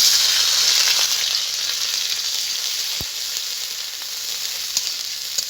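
Onion paste sizzling loudly in hot oil with whole spices like dried chili, cinnamon, cardamom, cloves and cumin, a steady close hiss that eases slightly, with one faint tap.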